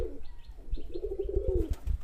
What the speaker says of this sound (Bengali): এ দেখেন কত ডাকাডাকি করে এটা আমার পাগলা একটা গিরিবাজ নর